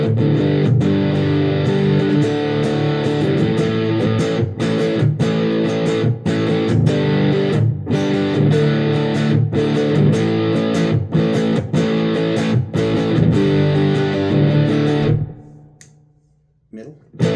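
Distorted chords on an EVH 5150 Series electric guitar ring out with a washy spring reverb tail, strummed rhythmically for about fifteen seconds before cutting to near silence.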